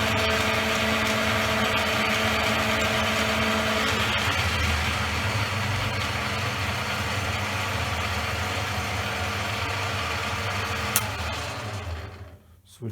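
A Raglan Little John Mk2 lathe with stepless speed change runs at a steady hum with a constant tonal whine, then winds down and goes quiet near the end.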